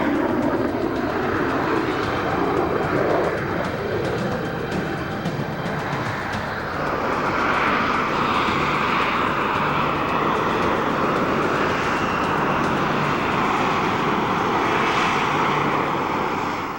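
A Harrier jump jet hovering to land with its thrust nozzles pointed straight down gives a continuous, loud, broad roar that swells slightly midway and carries on alone without talk.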